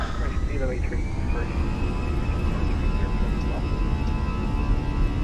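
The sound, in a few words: Fenix A320 engines spooling up for takeoff, MSFS video game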